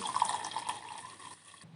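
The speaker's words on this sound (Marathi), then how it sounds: "आता ते तांदूळ आपण धुवून घेणार आहोत" Water sloshing and trickling in a pot as rice is rinsed, a steady close splashing that quiets near the end.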